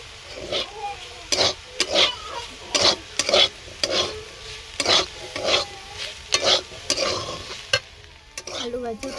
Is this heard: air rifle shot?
no